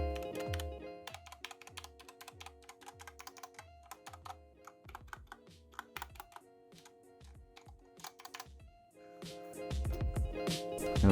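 Clacky Redragon K630 mechanical keyboard keys typed in quick bursts with short pauses, recorded on a phone mic, each keystroke crisp and close, no voices.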